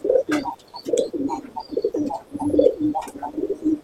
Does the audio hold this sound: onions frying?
no